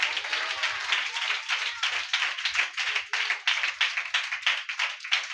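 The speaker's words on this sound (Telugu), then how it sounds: "గట్టిగా చప్పట్లు కొట్టండి." A church congregation applauding at a worship gathering, dense, fast and continuous clapping from many hands, loud and close, with no voices over it.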